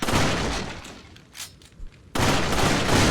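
Matilda burst-fire handgun in Resident Evil 4 (2005), loud dense bursts of rapid shots, a brief lull with a couple of smaller thuds, then another heavy burst of fire.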